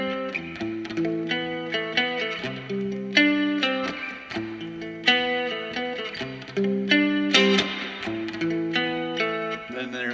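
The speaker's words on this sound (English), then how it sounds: "And I'll just drench it in reverb." A cigar box guitar drenched in heavy reverb plays a slow, clean melodic line of plucked notes that ring and overlap, each attack swelling into a long washy tail.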